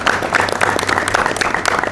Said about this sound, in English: we give him a good round of applause